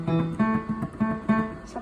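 A digital keyboard on its modern piano voice plays a short run of notes, several separate bright tones with a low hum beneath, close and moderately loud, no talking.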